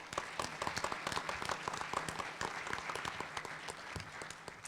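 A crowd at a fair housing summit gives sustained applause for event sponsors, a steady wash of many hands clapping at moderate distance, fairly quiet and continuous for the whole stretch with no clear talk over it.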